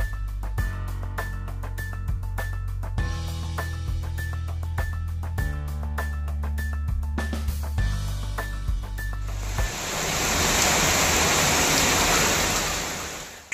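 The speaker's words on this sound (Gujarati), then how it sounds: "છેલ્લા 3 દિવસથી વરસાદ વરસી રહ્યો છે" Heavy monsoon rain with lightning in Valsad district, Gujarat, comes in as a loud, steady hiss after a stretch of music, then stops abruptly.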